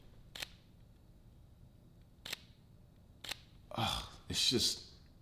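Sony A7S III mirrorless camera shutter firing, three crisp separate clicks spaced about a second apart, followed by a couple of busier rustling handling sounds, close and fairly faint.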